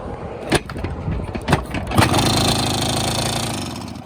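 A 400cc IZh Jupiter motorcycle engine, broken down at the roadside and fixed with a makeshift wire, is kicked over with a few sharp thumps, then catches and settles into a loud, steady running clatter close by.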